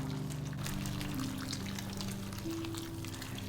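Boiling hot water poured from a kettle over processed pumpkin, a soft continuous splashing gurgle at low level with a faint background hum.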